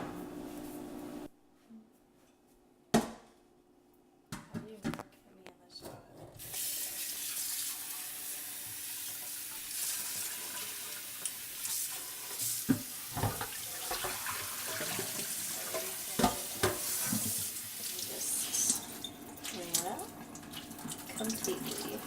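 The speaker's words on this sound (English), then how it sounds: "So we've been soaking the shirt for about 24 hours, so now we're gonna rinse it off." A faucet runs over a naturally dyed shirt after a long soak, starting with a few knocks and clatters, then a steady loud gush of water with splashing and handling sounds throughout.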